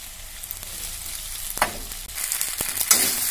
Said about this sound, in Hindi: अब इसको हम भून भी दे देंगे।